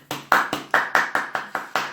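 Nine or ten sharp hand claps in a steady, even rhythm from one nearby person, each crisp and distinct with a short ring, with no talk over them.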